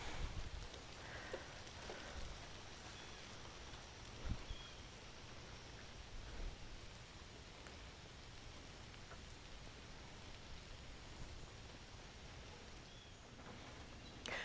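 Steady rain falls in a Zone 7 garden, a constant close hiss of drops pattering on leaves and surfaces with a few louder individual drips, no talking.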